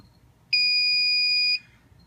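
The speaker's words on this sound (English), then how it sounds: "And when it's satisfied, it will beep at you like that." An RCBS Chargemaster powder dispenser gives a single sustained electronic beep, loud and steady for about a second, with a quiet low hum before and after.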